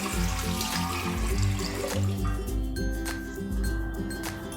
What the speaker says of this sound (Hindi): अच्छे से साफ करके इस तरह से धो लेंगे